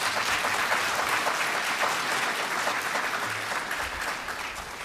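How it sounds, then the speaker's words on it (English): Panel audience at an Africa-focused foreign affairs forum applauding, a full sustained roll of many hands clapping at steady volume, tapering slightly near the end. "Let's give him a round of applause."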